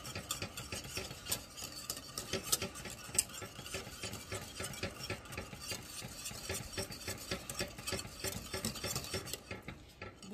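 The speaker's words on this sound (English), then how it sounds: "Whisking and stirring and attending to your grits is very important." Grits stirred and whisked in a pot, a close, continuous scraping with rapid rhythmic strokes of the utensil against the pot and a faint sizzling underneath.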